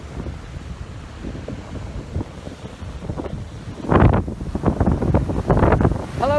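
Rough surf crashes onto a beach on Spain's Mediterranean east coast near Moncofa, north of Valencia, with steady wind buffeting the microphone and a heavier wave surge breaking partway through.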